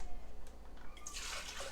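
Distilled water poured into homemade almond milk, a short close splashing gush of liquid that starts after a quiet moment and fills the last part of the clip.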